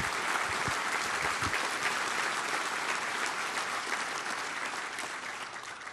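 An audience at a law enforcement awards ceremony applauds the nominees, a steady, full-room roll of clapping with a few sharper close claps early on, easing slightly toward the end.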